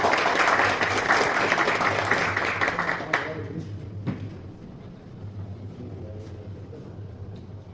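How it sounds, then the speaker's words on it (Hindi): Loud applause from the audience at a prize-giving for a pigeon racing competition fills the opening seconds, then quickly dies away into a low murmur of the crowd. "जोरदार ताली।"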